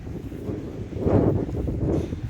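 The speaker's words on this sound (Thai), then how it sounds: "ตอนนี้ลมแรงมากครับ" Strong wind on a Thai dairy cattle farm buffets the microphone, a low rumbling roar that swells louder in the middle and stays unbroken throughout.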